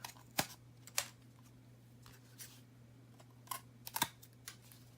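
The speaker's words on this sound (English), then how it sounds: "now I'm going to take scissors and just remove the excess" Scissors trim excess paper from a handmade card panel: a handful of crisp, quiet snips spaced irregularly over a low steady hum.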